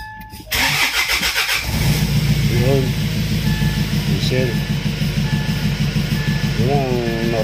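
A diesel engine cranks and catches, then settles into a loud, steady idle that runs throughout, with a few short harmonic engine whines rising over the rumble.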